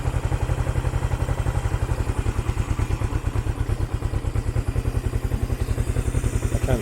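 A 1975 Honda CL360 Scrambler twin idles with a fast, even, pulsing putter, close and steady throughout, its mechanical clatter sitting above the low exhaust beat.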